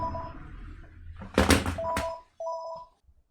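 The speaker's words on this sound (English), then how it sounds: "Then my phone rang." A telephone rings indoors in short electronic bursts with a brief thump in between, fairly close and clear, then stops.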